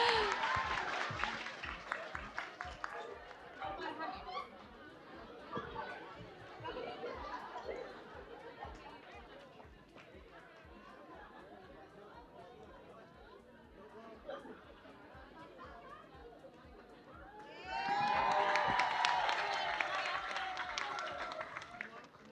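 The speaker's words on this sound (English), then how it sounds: "Okay, can we have an applause, everyone?" Audience applause at a prize-giving on stage, a burst of clapping at the start that fades into crowd chatter and movement, then a louder round of clapping near the end with voices mixed in.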